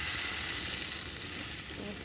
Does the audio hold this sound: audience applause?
no